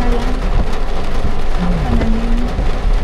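Heavy rain pours steadily during a drive through Canlaon City, a dense loud roar of drops on surfaces lasting throughout, with a faint low rumble underneath and no voices.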